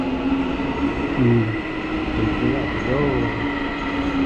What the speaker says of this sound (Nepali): ट्रेन पनि आइपुग्यो